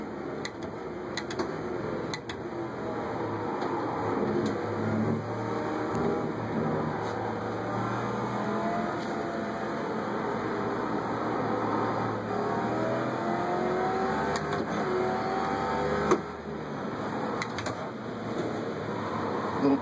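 Car engine noise from a SimVibe racing sim, revving as the driver blips the throttle through heel-and-toe downshifts, steady and continuous with brief rises and no talking over it.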